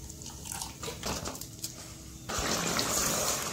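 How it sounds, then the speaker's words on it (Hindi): Water is poured onto 8 to 10 almonds for grinding while mutton korma is made at home, a short splashing trickle that swells into a steady louder pour near the end. "थोड़ा पानी डाल के पीस लेंगे।"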